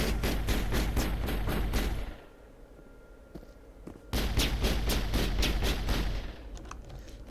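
Gunfire in the Mass Effect video game, shots aimed at crates: rapid, loud bursts that pause for about two seconds, then resume as fast repeated shots.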